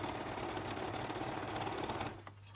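Sewing machine overcasting the edges of fabric cuffs for decorative stocking-shaped sweet or gift socks, a steady fast close mechanical whir that runs for about two seconds and then stops abruptly, leaving faint clicks.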